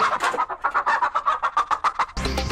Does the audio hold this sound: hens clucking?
yes